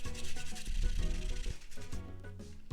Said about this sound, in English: Then for the ginger, I'm going to peel off the skin. And then we're going to grate this as well.